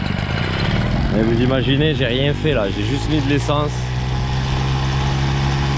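Small Motobécane Cady moped two-stroke engine idling steadily in the background throughout, with someone talking over it close by.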